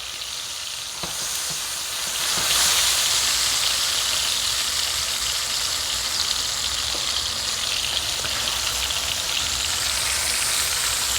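Top round steaks sear in a hot pan with a loud, steady, close hiss of sizzling fat that swells slightly after the first couple of seconds and keeps going without a break.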